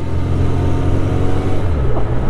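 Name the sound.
Honda CB750 Four four-cylinder motorcycle engine while riding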